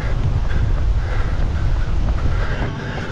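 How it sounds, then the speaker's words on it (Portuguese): Strong wind buffeting the microphone, producing a continuous low rumble and roar with no speech. "Tá ventando, hein?"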